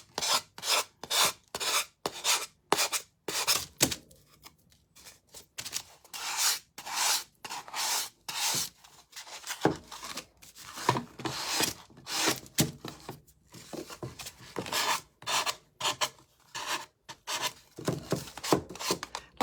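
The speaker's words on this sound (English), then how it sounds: "And first I'm just going to use this finer sanding paper" Sandpaper rasps back and forth across a craft piece for a snowman shelf sitter, steady rhythmic strokes in bursts with short pauses, close and fairly quiet, no talking.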